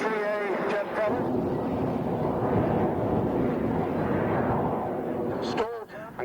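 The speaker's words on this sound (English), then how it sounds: "we can now listen to and watch Eddie Todd in the Mark 3A Jet Promise" Jet Provost Mark 3A jet aircraft displaying at the Duxford autumn airshow, a sustained loud engine roar swelling and easing slightly, with brief human voice sounds at the start and near the end.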